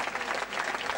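Brief burst of applause from an audience welcoming a choir from Nuoro province at an outdoor festival gathering in front of a church, steady dense clapping over one second with no talk.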